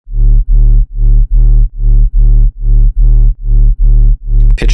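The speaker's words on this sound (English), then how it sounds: "just a sine wave, level turned all the way down, add this LFO to the level, and make this shape" A synth sine wave, its level shaped by an LFO, pulses in about ten even, loud bursts separated by short silences, each with a deep, steady tone.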